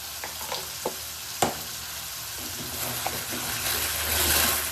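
Tomatoes and salt sizzle and fry in a pan for mushroom sukka, a steady close crackle with a few sharp stir clicks and spoon scrapes scattered through, growing slightly louder toward the end.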